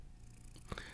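A cat purrs close to the microphone in a quiet room, a soft low rumble that lasts under a second and ends with a slightly louder rustle.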